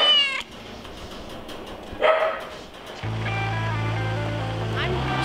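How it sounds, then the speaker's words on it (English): A cat due to be neutered gives a couple of short meows, one at the start and another midway, before a steady tonal hum and background noise take over. "a super cute cat that's about to get neutered"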